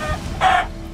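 Cartoon chicken from a Minecraft animation lets out a short, loud cluck burst in the middle of a one-second moment, set against a steady background hum.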